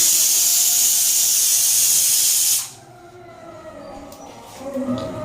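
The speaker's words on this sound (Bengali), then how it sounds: "প্রেসারে সিটিও উঠে গেছে" A kitchen pressure cooker hisses loudly and steadily as it releases steam, then cuts off abruptly, leaving quieter kitchen sounds behind.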